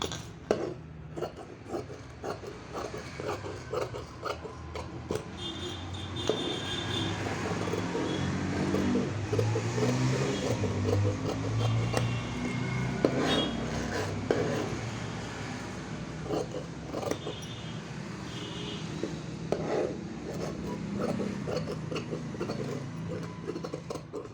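Scissors cutting blouse fabric along a chalk marking, repeated soft snipping and sliding blade clicks in irregular rhythm, close and quiet, with occasional handling noises.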